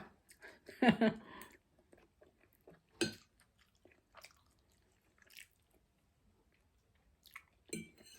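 Someone eating a meal, with a few wet chewing and smacking bursts, the strongest near the start and scattered softer ones after, close and quiet with long pauses between.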